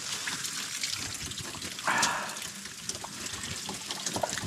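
Water runs steadily from an outdoor tap or hose while turnips are scrubbed with a brush, a close, continuous gushing and trickling with a brief louder splash midway and no talking.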